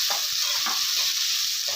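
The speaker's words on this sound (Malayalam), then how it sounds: "നമുക്ക് ഈ മിശ്രിതം ഇതെല്ലാം കൂടി എണ്ണയിൽ കിടന്ന് ഒന്ന് വഴറ്റിയെടുക്കണം." A spice mixture for chicken roast sizzles steadily in hot oil, with a bright continuous hiss and soft scraping stirs from a spoon at close range.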